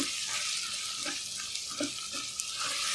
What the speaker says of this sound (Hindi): अच्छे से हम इसको भून लेंगे